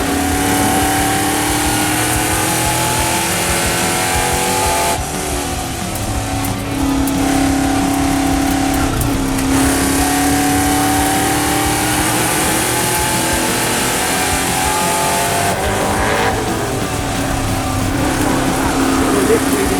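A NASCAR-style race car on an oval circuit in the Netherlands roars continuously through a lap, a loud, steady engine drone with shifting pitch, while a commentator talks over it.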